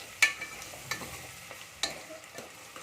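Vegetables for undhiyu, with tomatoes added, sauté in a pan with a soft steady sizzle and a few scraping stir strokes of a spoon, close and alone without talk.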